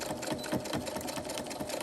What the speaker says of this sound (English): you want to turn that corner, okay? And you're just going to stitch about 1 inch.